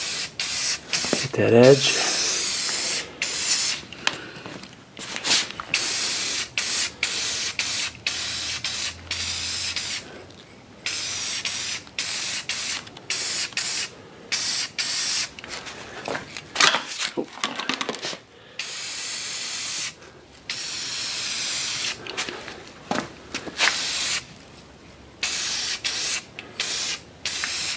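Aerosol spray paint hisses in repeated short bursts close by as a homemade vent for a Ski-Doo Rev 800 snowmobile is coated, with brief pauses between passes and someone speaking now and then.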